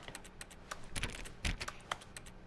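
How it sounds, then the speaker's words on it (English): Rapid keyboard typing from The Stanley Parable video game: a quick, irregular run of sharp key clicks, fairly faint and close, with no talking. "Why is it typing though?"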